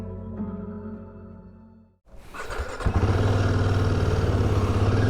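Royal Enfield Himalayan 450 motorcycle on a road in Uttarakhand: an engine fades out, then after a short gap a loud engine picks up and pulls away, settling into a steady, close, throbbing drone.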